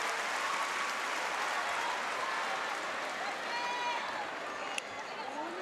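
An arena crowd at a 2023 PVL All-Filipino volleyball match between F2 Logistics and Choco Mucho roars for player Myla Pablo, a dense, sustained cheer filling the hall while a commentator talks over it.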